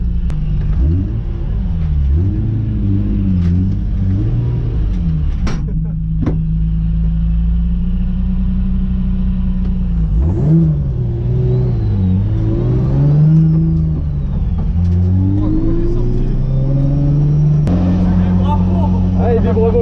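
A Nissan S14 engine revs hard toward the rev limiter, heard from inside the car as a loud, steady drone with rising and falling pitch and some sharp bangs, while people talk over it.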